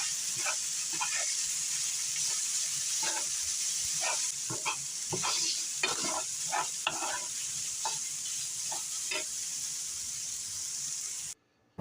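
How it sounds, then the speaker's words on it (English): Mac and cheese ingredients with garlic powder being stirred, a series of scraping, clicking spoon strokes against the pot over a steady soft hiss, close and moderately loud before cutting off at the end. "we're gonna stir that all up together."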